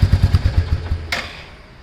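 A Royal Enfield Meteor 350 motorcycle engine idles with a steady low thumping pulse, then shuts off and fades away, with a brief bright click near the end.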